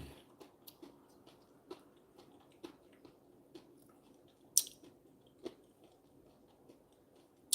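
Close, quiet chewing and crunching of a snack dipped in a thick dip, with soft irregular bites and a few sharper crisp crunches spaced through the stretch, no talking.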